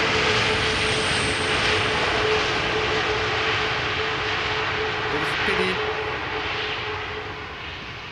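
An airliner landing at Amsterdam Schiphol with light reverse thrust gives a loud, steady, broadband jet roar close by that holds for several seconds and then eases off toward the end.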